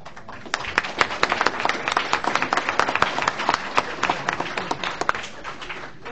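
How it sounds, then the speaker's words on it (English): A crowd applauds recipients at a school board meeting with dense, steady clapping that swells and continues for several seconds, no voices over it. "Let's give one last round of applause to all your recipients."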